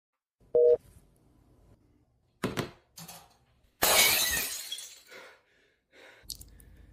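Glass breaks in a home: a sharp tone, a pair of clattering impacts, then a loud crashing shatter with scattering fragments that trails off, followed by a light tinkle; close by, with no speech.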